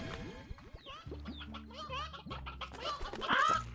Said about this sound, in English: Big Doug, just find yourself a chicken, for goodness sakes.